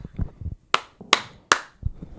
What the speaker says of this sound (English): I got to clap.